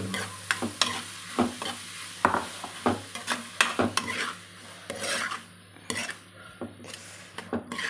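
A spoon stirs torn jowar roti pieces into softened cooked tomatoes in a hot pan. There are repeated close scrapes and clinks against the metal over a light sizzle, with no one talking.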